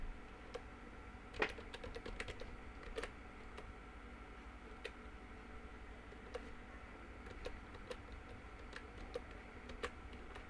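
Sparse, faint clicks from a wireless keyboard that has a wireless connection problem, struck one key at a time at irregular intervals over a steady low hum, with no voices.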